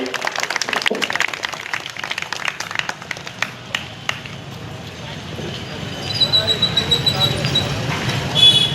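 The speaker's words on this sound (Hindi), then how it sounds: "तालियों के साथ इस्तेकबाल करे भाई" Scattered hand claps welcome a guest at an NCP political gathering in Malegaon, sharp separate claps over the first few seconds that thin out, followed by softer crowd noise and voices.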